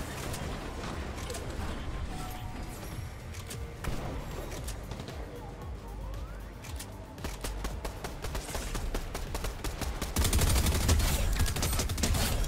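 Rapid bursts of automatic gunfire from a Fortnite battle royale match crackle over a dense game soundscape, growing heavier and louder toward the end while someone talks throughout.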